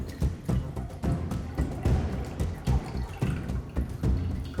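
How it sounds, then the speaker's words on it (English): Liquid from a Corpse Reviver cocktail is double strained out of a shaker, with uneven splashing, dripping and a few dull knocks of metal that recur through the pour. No one speaks. "Now double strain everything into the Cheeto shaker first."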